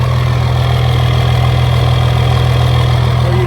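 A Cummins diesel engine idles steadily close by, with a deep, even exhaust rumble and a faint rhythmic throb that continues unchanged throughout.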